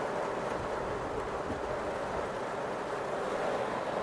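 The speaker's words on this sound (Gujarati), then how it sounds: "વરસાદે ચાલુ છે" Heavy rain falls continuously, heard from inside a car with the windows shut at a market, a dense even hiss with low rumble, no pauses and no voices.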